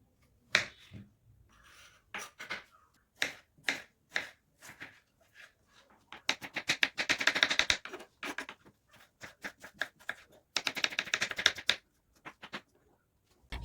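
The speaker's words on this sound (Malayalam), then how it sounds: "ഇനി ഇതിൻ്റെ തൊലികളെല്ലാം കളഞ്ഞ് ചെറിയ ചെറിയ പീസുകളായിട്ട് കട്ട് ചെയ്തെടുക്കുകയാണ്." A knife chops peeled vegetables into small pieces on a board, sounding first as scattered single crisp taps and then as rapid, dense bursts of close, sharp chopping.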